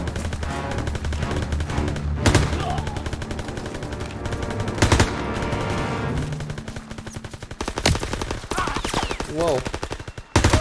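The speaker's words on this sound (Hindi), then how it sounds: "MP40" An MP40 submachine gun firing in the Call of Duty: WWII video game, loud close rapid bursts of automatic fire repeating throughout amid battle noise, with some voices.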